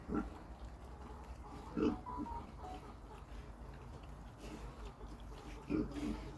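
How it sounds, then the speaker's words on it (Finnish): Pigs on a farm give low, scattered grunts and oinks at close range, a few louder bursts standing out over a murky background. "Terve possuset."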